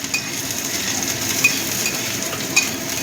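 Onions fry in a pan for butter garlic chicken with a steady soft sizzle, joined by a few light clinks of a utensil stirring against the pan.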